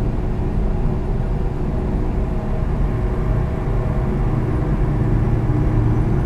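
A Scania truck in Euro Truck Simulator 2 driving toward Hannover, with a steady, loud engine drone and low rumble holding unchanged throughout and no voices.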